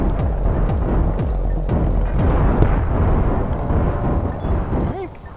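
Grenade blasts keep going off in an online shooter, a steady dense roar of booming explosions layered over each other for several seconds at close range, with a faint voice under the din.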